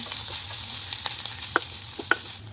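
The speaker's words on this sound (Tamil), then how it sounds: "வெங்காயம், இஞ்சி, பூண்டு, பச்சை மிளகாய், கருவேப்பிலை எல்லாத்தையும் போட்டு வதக்கி எடுத்துக்கிட்டேங்க" Onion, ginger, garlic, green chilli and curry leaves sauté in a pan with a steady close sizzle, broken by a few sharp spatula scrapes and clicks, no voices.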